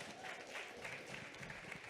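Audience applause at a sustainability talk, a steady dense wash of many hands clapping, heard faint and somewhat distant throughout.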